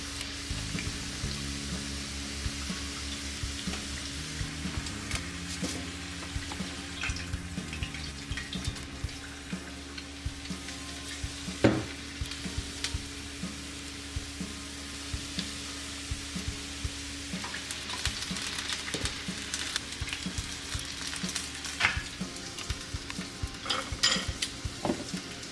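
Orange chicken pieces fry in a frying pan with a continuous low sizzle and hiss, joined by occasional scraping and clinking as they are stirred, heard alone and fairly close.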